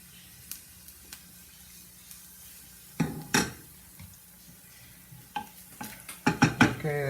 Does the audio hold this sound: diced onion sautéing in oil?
yes